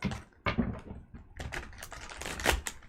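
Tarot cards are shuffled in quick, uneven bursts of crisp riffling and tapping, close and clear, with short pauses between the flurries.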